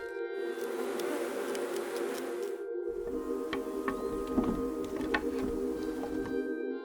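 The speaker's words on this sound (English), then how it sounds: "The bees swarm around it, but the badger continues to advance" Bees swarm around a honey badger in the African savannah as it claws open their wax comb, a steady close buzzing drone that holds throughout with a brief gap near the start.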